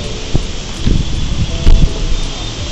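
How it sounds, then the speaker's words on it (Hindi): Strong wind blowing outside a house, a steady broad rushing roar with gusty low buffeting against the microphone, continuous and close, with no voices. "बहुत ही तेज़ हवा चल रही है सुबह से"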